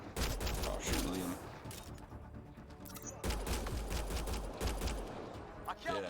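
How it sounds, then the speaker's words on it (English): Gunfire in Mass Effect Andromeda comes in two or three dense bursts of rapid shots, loud and close, with a pause and a fresh volley midway and faint battle noise in between. "I'll shoot Liam."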